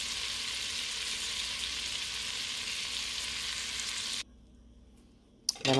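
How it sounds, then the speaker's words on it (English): Butter melts in a hot pan with a steady, close sizzle and crackle that stops suddenly, leaving near silence before a brief clatter at the end. "Let my butter melt."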